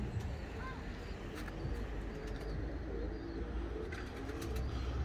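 Flying pigeons from a long-kept pedigree flock coo softly and intermittently, with a few faint chirps, over a dense, steady outdoor noise bed.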